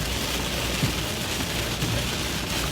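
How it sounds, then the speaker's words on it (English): Wind-driven rain during a tornado-warned storm near Monticello, Arkansas, makes a dense, steady broadband roar with constant hiss and no pauses. It sounds loud and close, with no voices. "look at that wind-driven rain."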